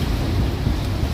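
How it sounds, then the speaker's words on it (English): Strong storm wind of 33 mph gusting to 40 buffets a boat at anchor in 45-knot winds, a loud continuous roar of wind noise and rushing water, close and unbroken. "So this is a steady 33 mile an hour wind with gusts up to 40."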